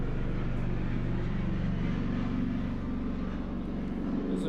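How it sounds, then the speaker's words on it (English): A helicopter passes low overhead, its steady rotor and engine drone loud and continuous throughout, with a faint voice underneath. "Is it me or was that helicopter like super low?"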